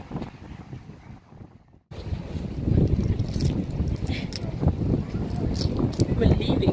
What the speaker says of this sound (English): the wind in PE is doing wonders